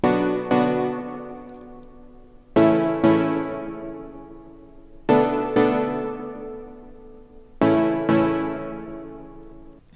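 Synth track built on a Tri-Stab preset from the Zeon synth in GarageBand for iOS: four loud, bright stab chords roughly every two and a half seconds, each with a quick grace hit and a long decaying tail, no voices.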